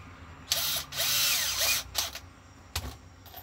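A power drill drives screws into a wooden bird piece in short close bursts, with one long whirring run followed by several brief spurts and small clicks.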